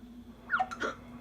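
A cartoon character hiccups in two quick, bright bursts after a pause, fairly clear over a steady low hum, with no talking.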